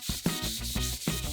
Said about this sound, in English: I'll use these Indasa fine and super fine sanding sponges